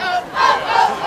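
A large crowd at a 2019 high school basketball game, WLA versus Lourdes, yells and cheers in a brief, loud, rising roar of voices.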